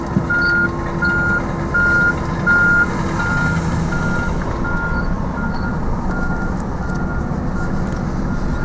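A reversing truck at a boat disposal dump sounds a steady series of evenly spaced beeps over a constant rumble of idling engines and site machinery, moderately close.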